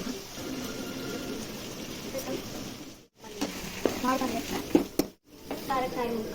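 Onions frying in oil in a pan while cooking bottle gourd sambar, a steady close sizzle with stirring scrapes, two brief pauses and a person talking over it.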